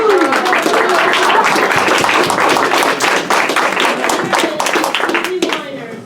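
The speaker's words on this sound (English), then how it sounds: "I think our contestants deserve a round of applause" A round of applause for contestants at a National Nurses Week competition: loud, dense clapping from a room of people, sustained and close, with some voices mixed in, tapering off at the end.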